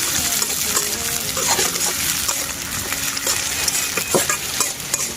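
Sliced onions with bay leaf frying in oil in a pan, stirred steadily. A continuous hiss and sizzle runs throughout, with scraping stir strokes and occasional clinks over it.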